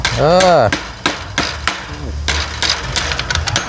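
Sharp hammer blows ring out in an irregular series, loud and close, while a car body part is being broken off and fitted on a cage door build, with brief voices in the background.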